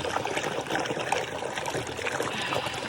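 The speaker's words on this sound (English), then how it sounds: "Put my feet in this cold, refreshing water." Feet dip into a cold stream on a long hike, with steady close trickling and light splashing of water throughout and no voices.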